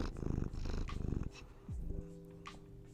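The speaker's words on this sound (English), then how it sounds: "You may purr into the microphone." A house cat purring close to a microphone, with rhythmic rumbling bursts of purr broken by pauses and a couple of short vocal trills, intimate and fairly loud, no speech.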